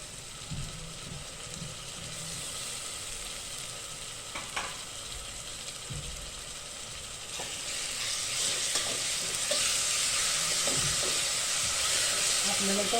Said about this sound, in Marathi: आपल्याला टोमॅटो सुद्धा चांगला परतवून घ्यायचा आहे तेलामध्ये